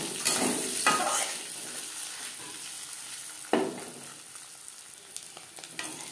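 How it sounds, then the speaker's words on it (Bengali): Duck eggs fry in a pan with a soft, steady sizzle, punctuated by a few sharp clinks and scrapes of a utensil against the pan. "ডিম ভেজে নেওয়া হয়ে গেছে,"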